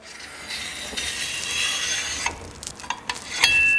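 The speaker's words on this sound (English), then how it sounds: "This part of the tool here is made for cleaning your bar." Cleaning tool for a Dyna Cutting System chainsaw scraping caked sawdust and oily gunk out of the bar groove: a steady, close scraping rub that gives way to a few sharper scratches and clicks near the end.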